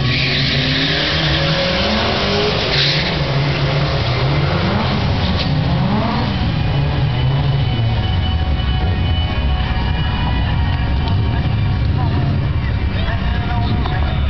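A BMW convertible and a yellow 2003 Mustang GT launch down a drag strip, engines roaring loud and steady as they accelerate through the gears, with a track announcer talking over the sustained engine noise.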